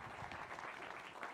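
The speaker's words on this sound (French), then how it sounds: "on peut l'applaudir très fort" Applause from an audience at an awards ceremony during a Napoleon festival, a steady dense patter of clapping filling the whole moment, moderately distant and even.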